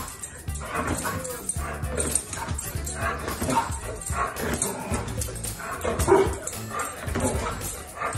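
Small dog barking and yipping from a television broadcast, with busy music and other sound running throughout, the barks mixed in among it at a steady, fairly loud level.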